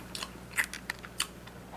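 Crunchy bites into spicy GS25 convenience-store dakgangjeong, Korean fried chicken pieces, heard as a few sharp, crisp crunches close to the microphone with no talking.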